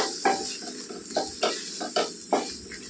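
Raw mango pulp frying in a pan for mango pulihora, with about six rhythmic scraping stirs of a spoon against the pan over a soft, close sizzle.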